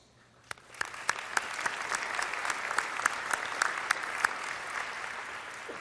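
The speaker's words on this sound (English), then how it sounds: "Please join me in applauding representatives from Vernado Realty Trust and Merchandise My Properties." Audience applause at a Cuyahoga County event as realty representatives are recognized; clapping builds after a few sharp early claps into a sustained, even round with some louder individual claps standing out.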